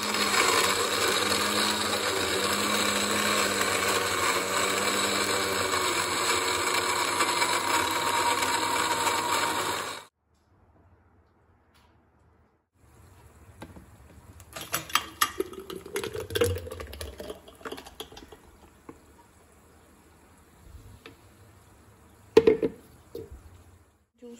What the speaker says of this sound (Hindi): फिर मैं इसको ब्लेंड कर लूंगी।